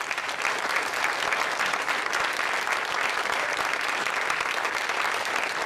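Sustained audience applause fills a hall at a talk honoring a commissioner, steady and dense clapping from many hands throughout with no voices over it.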